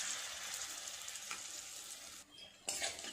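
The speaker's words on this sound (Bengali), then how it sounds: "দেখতে দেখতে এই বড়াগুলো ভাজা হয়ে গেল" Bitter gourd fritters sizzle steadily in hot oil, a dense continuous hiss with occasional stirring scrapes and brief lulls, close and alone with no talking.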